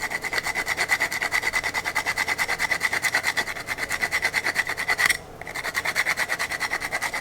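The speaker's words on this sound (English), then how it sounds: "I'm gonna grind some nutmeg" Whole nutmeg rubbed against a grater for a meatball mix, a steady close rasping in quick even strokes that pauses briefly partway, then resumes.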